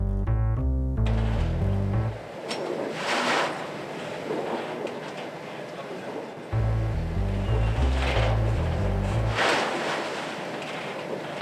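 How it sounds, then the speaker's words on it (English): Steady rushing of water and wind as a cruise ship sails through Antarctic seas in gusting wind, with low rumbling and surging swells, continuous and fairly loud. "the ship sails to its next destination"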